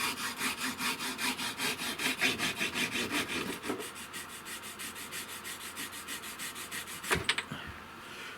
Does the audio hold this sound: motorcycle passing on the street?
no